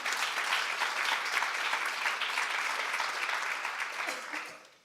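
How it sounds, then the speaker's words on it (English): Audience applause at a responsible trade annual event, a dense steady round of clapping from a sizeable crowd that holds for several seconds and then tapers off at the end, with no talking over it. "Maybe also a round of applause for Elif."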